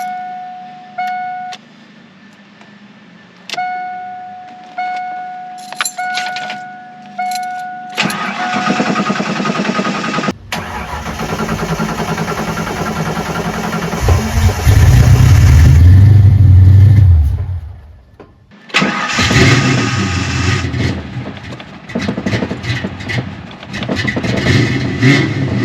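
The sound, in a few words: 1988 Ford Mustang 306 engine starting and running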